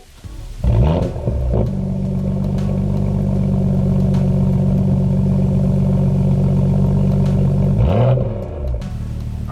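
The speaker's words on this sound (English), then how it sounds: "So we're gonna do some stock exhaust clips real quick" BMW M2 fitted with a catless downpipe and M Performance exhaust, idling with a deep, steady burble after a sharp start-up bark, holding a continuous loud drone before a brief blip and then settling back down near the microphone.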